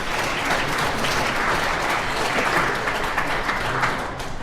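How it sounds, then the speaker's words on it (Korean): Sustained applause from wedding guests at a ceremony, a dense, steady wash of many hands clapping at even loudness throughout, tapering slightly at the end. "다시 한번 박수 부탁드리겠습니다"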